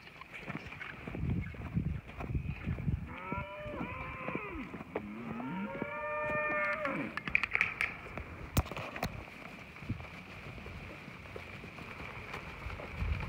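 Dairy cows in a paddock on a farm give several drawn-out, rising and falling moos in the middle of the stretch, moderately close, over outdoor background noise and occasional knocks.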